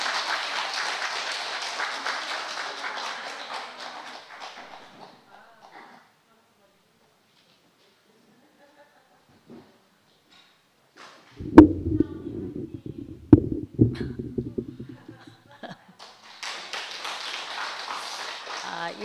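An audience at a Thursday church gathering bursts into applause, a sustained wash of clapping at the start that fades out, then returns after a quiet stretch with a few louder knocks and talk in between.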